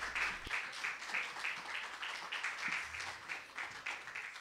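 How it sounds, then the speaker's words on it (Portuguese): A church congregation claps to welcome a singer, a soft, fairly distant applause with a loose, pulsing rhythm that continues steadily. "Receba a irmã Carol com as palmas bem alegres para Jesus."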